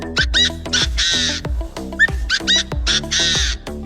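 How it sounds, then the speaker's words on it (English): A partridge calls in a run of harsh, raspy squawking notes, repeated in quick bursts with short gaps, close and loud with nothing else heard. "This is a partridge."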